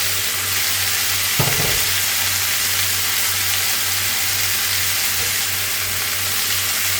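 Onions for chicken fajitas sizzle in a hot pan over high heat, a steady loud frying hiss with a low hum beneath and one brief clatter of stirring early on.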